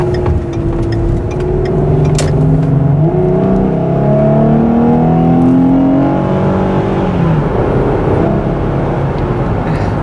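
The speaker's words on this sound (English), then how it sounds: "I can already tell it's a little bit throatier." A 2009 Ford Flex engine fitted with a K&N cold air intake revs with a deep, throaty tone, rising and falling in several sustained pulls close by, with no talking over it.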